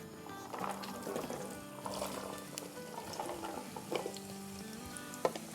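Potatoes, washed and strained, deep frying in hot oil, a steady bubbling sizzle with faint clinks and a sharp tap near the end, no talking.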